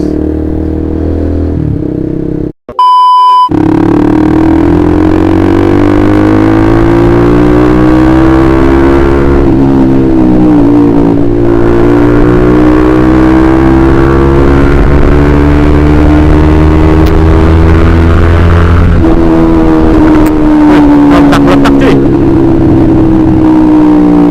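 A Honda CBR150R motorcycle with a loud aftermarket exhaust roars close up while speeding, its engine note rising and falling through gear changes over a sustained run, with a brief cut near the start.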